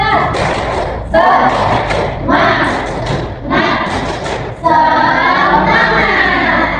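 A classroom of children does the 'tepuk semangat' rhythmic clap chant, with steady bursts of hand clapping and chanting voices that fill the room loudly throughout.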